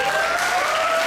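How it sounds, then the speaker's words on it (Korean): Students in a school audience keep clapping for a classmate's presentation, a short burst of dense, loud applause at steady level with a faint steady tone beneath. "이쪽은 박수가 많은데 이쪽은 박수가 전혀 없네요."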